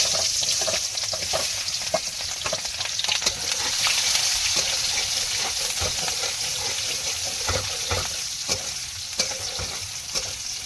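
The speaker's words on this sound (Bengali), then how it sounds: "তেল গরম হয়ে গেছে আর দিয়ে দেবো পেঁয়াজ" Onion frying in hot oil in a home kitchen, a steady loud sizzle throughout with intermittent stirring scrapes and no talking.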